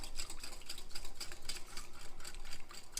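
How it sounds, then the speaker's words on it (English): A whisk beats yogurt into milk in a bowl, producing quick, steady rhythmic clicking strokes several times a second, close and fairly light, with no talking. "So I'm just going to give it a whisk"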